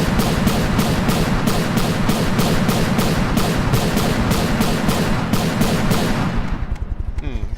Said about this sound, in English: I can actually pop up on top of the craft and test fire these weapons as I make them